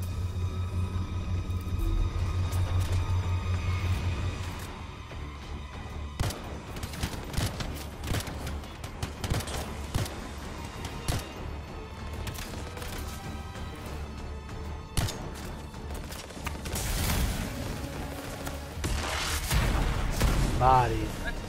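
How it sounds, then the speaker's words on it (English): Pistol shots in the video game Anthem crack out as scattered sharp reports and impacts amid heavy in-game combat noise and music, with a player talking over much of it. "One shot, one headshot with the pistol."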